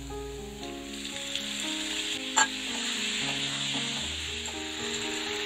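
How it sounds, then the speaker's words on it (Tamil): Four medium tomatoes, cut into long strips, sautéing with salt in a pan for tomato rice, giving a steady sizzle with stirring and a brief utensil clink midway, close and continuous with no talking. "இதோட கொஞ்சம் உப்பையும் சேர்த்து நல்லா வதக்கலாம்"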